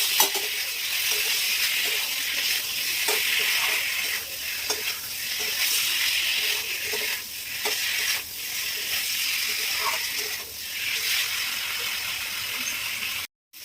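Taro stolons tossed into hot fried spices for a prawn curry, giving a loud, continuous sizzle with repeated scraping stir strokes close by, alone without talk.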